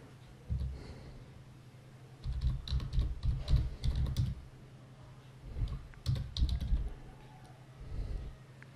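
Someone types a command on a Windows computer keyboard in several bursts of quick, close keystrokes, separated by short quiet pauses.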